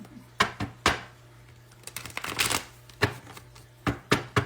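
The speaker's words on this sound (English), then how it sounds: "One more shuffle and we're going to begin your reading" Tarot cards are shuffled by hand in a series of sharp riffling snaps and soft slaps, irregularly spaced bursts close by over a faint steady hum, with no speech.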